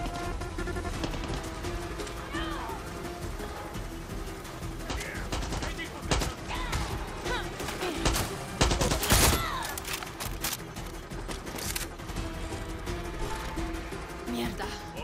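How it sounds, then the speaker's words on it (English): Sustained gunfire in the video game Far Cry 6, with bursts of automatic weapon fire and single shots crackling throughout and a loud burst near the middle, over a busy background of game effects. "Who is actually shooting me now?"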